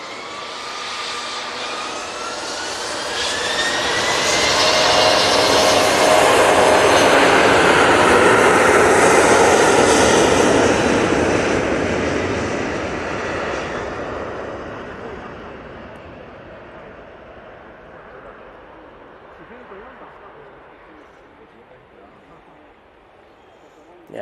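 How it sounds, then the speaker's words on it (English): A Finnair Embraer E190 jet departs from Manchester Airport for Helsinki, its engine roar swelling to a loud peak with a rising whine, then fading away into the distance. "Finnair, but going back to Helsinki, using the Embraer E190."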